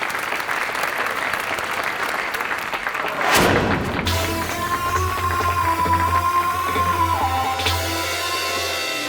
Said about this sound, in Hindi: जोरदार तालियां बजाइए